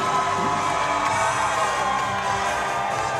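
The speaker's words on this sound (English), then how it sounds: "Great reaction by the crowd for the return to the ring for Chelsey Anderson" A fight crowd cheers and roars steadily at an MMA event, Chelsey Anderson's return to the ring at DMG Night of Champions III. The sound is a loud, continuous wall of noise with no break throughout.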